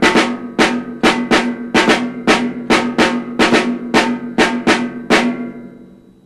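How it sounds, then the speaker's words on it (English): A drum kit plays a typical jazz rhythm pattern, a dozen crisp strikes in a lilting uneven pulse with a sustained ringing tone underneath, close and loud, ending on a fading decay. "Figure 44 shows another example of a rhythm pattern typically found in a jazz drum part."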